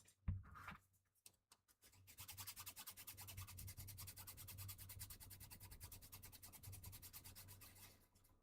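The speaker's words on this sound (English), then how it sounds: "I think I want to give it a quick sanding." Steady abrasive rasping from sanding a Necromunda display piece, a continuous scratchy rhythm running for several seconds after a few brief knocks and handling sounds at the start, close and fairly quiet.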